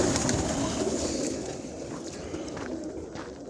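Soft pigeon cooing close by, overlapping low calls repeating over a steady background hum, with no talking.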